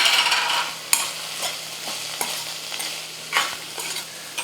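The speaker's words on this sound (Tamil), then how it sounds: "இப்போ வந்து கடைசியாக நம்ம இறக்கும் போது தேங்காய் துருவல் கொஞ்சமாக சேர்த்துட்டு கலந்து விட்டு ஸ்டவ் ஆஃப் பண்ணிடலாம்" Raw papaya stir-fry with grated coconut stirred in a hot pan, soft continuous sizzling broken by repeated sharp scrapes and taps of a spatula at an irregular pace.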